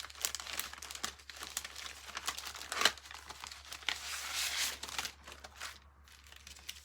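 Close, quiet crinkling and rustling of paper as a laser-cut embellishment is pulled out of its packaging, with irregular crackles, one sharp snap near the middle and a brief pause near the end.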